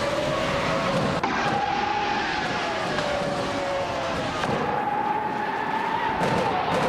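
Racing video game audio of 1996 Benetton B196 Formula One cars at Sepang, with a steady, loud engine whine that shifts pitch as the cars accelerate and change gear, continuous through the whole stretch with no talk.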